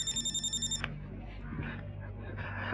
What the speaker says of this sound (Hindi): यार पापा का फिर फोन आ गया